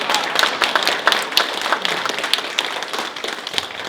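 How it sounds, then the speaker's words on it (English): An audience applauds a panel with a close, crackling patter of many hands clapping at once, steady at first and then thinning slightly toward the end. "let's give them a big round of applause."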